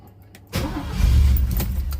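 A car engine cranking and catching on residual fuel after the fuel pump died, a sudden loud start after a quiet moment, rising into a rough, rumbling idle up close.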